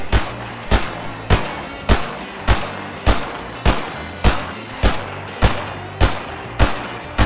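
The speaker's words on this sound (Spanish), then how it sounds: "me sale este ruido todo el rato, que es como de disparos" Loud Fortnite video game gunshots fire in a steady, evenly spaced rhythm, roughly one every two-thirds of a second, each a sharp blast with a short tail.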